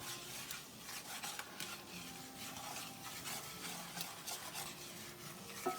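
Salt being stirred into a spinach and ricotta mixture with a spoon, a steady close scraping and rubbing that runs continuously with soft repeated strokes and no voices.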